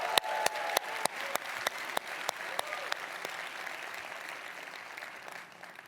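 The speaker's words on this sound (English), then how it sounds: "let's give them another round of applause" A demo day audience claps at a startup pitch event, a steady, even round of applause with a few sharp, distinct claps standing out near the front before it slowly fades.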